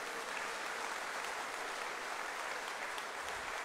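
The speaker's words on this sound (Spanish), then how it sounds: "Un fuerte aplauso a todas y a todos." Sustained crowd applause fills a municipal government report ceremony in Jalapa de Díaz, a steady, dense wash of many hands that sounds fairly soft and distant throughout.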